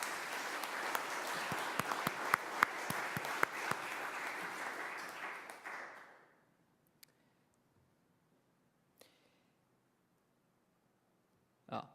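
Applause from a crowd at an Eagle Scout Court of Honor, steady clapping for several seconds that fades out, followed by near silence with a few faint noises.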